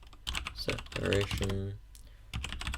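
Fast typing of a code comment on a computer keyboard, close clicking keystrokes in quick runs heard under someone talking nearly throughout.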